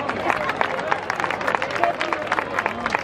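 School anniversary audience applauds the primary school director, a steady patter of many hands clapping at moderate volume, with children's voices mixed in.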